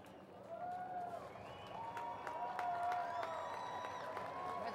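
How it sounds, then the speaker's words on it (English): A parade crowd at the Alabama homecoming cheers for the Grand Marshal, a broad rising roar of voices with whistles and scattered shouts, steady and somewhat distant throughout. "The crowd is cheering for today's Grand Marshal, Tyrone Prothro."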